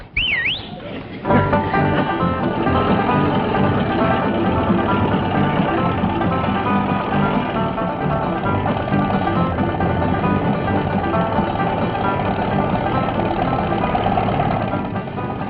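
A car engine drones steadily and close for the whole stretch, a constant mechanical hum with no breaks.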